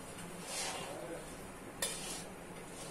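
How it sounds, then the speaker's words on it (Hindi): Spice masala for gunda pickle roasting in a pan: a soft, steady sizzle mixed with scraping and stirring of a spoon against the pan, quiet and close, with one brief metallic knock. "ये हल्का सा मसाला, इसका मसाला भून रहा है"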